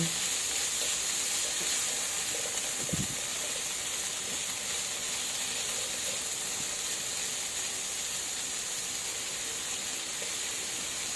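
Carrots and cauliflower stir-frying in a pan produce a continuous soft hiss and sizzle, close and fairly even, with a single knock of a utensil early on.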